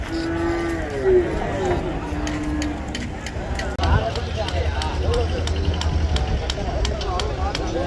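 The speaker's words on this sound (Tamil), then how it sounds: "எல்லாம் மாடு" Cattle moo at a busy cattle market amid constant crowd noise and rumbling, with one long low call standing out early and people talking around it.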